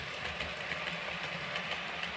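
A model underground train runs along a railway layout past a country scene, giving a steady mechanical whirr and rumble with faint rhythmic clicking, close and continuous with no talking.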